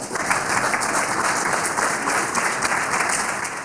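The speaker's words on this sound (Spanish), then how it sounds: "un aplauso." Audience at a university award ceremony for the Nueva Civilización prize applauds steadily, a dense, even wash of clapping from many hands that continues without a break.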